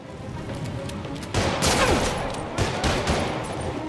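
Gunfire in the action game Spider-Man Remastered, a loud volley of rapid shots that bursts in partway through over a busy game background and keeps rattling to the end.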